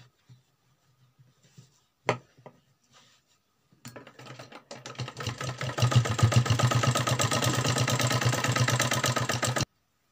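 A sewing machine stitches stretched fabric with elastic for a suit, starting after a few clicks and handling noises, then running in a fast, even mechanical rattle for about six seconds before stopping abruptly.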